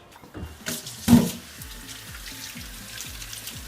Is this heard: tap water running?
yes